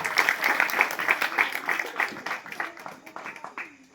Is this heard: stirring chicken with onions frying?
no